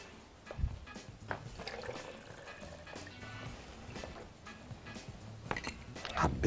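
Water splashes and trickles into a container in uneven bursts, with clinks and kitchen handling noises around it, while making mixed fruit juice.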